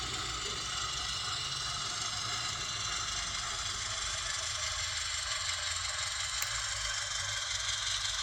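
Railway locomotive diesel engine idling, a steady low rumble with constant mid-range hum and no talk, holding even throughout.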